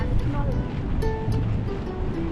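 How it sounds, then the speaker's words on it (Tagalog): Strong ocean waves surge and wash on the shore in Kauai, Hawaii, a steady loud rumble of surf with wind buffeting the microphone while people talk over it. "Ang lakas-lakas ng alon."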